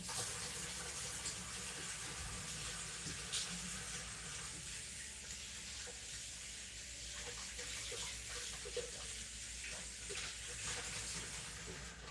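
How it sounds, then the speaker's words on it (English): Running tap water while hands are washed in a kitchen, a soft steady hiss and splash that flows continuously at moderate distance and low volume. "I'll wash my hands."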